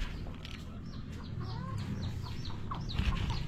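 Several chickens cluck and chatter in short bursts around a rural yard, close and steady over a low rumbling background, with no voices.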